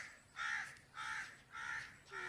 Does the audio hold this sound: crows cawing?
yes